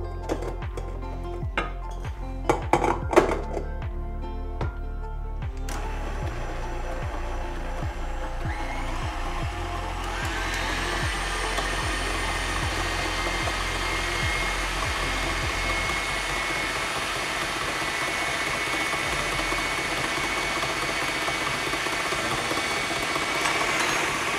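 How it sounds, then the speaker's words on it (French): Electric mixer whisking egg yolks and sugar in a kitchen: after a few clinks and taps of utensils, a steady, moderately loud motor whir runs continuously to the end, rising slightly in pitch partway through, with no talk. "Et ça ici, on va fouetter ça ensemble au malaxeur."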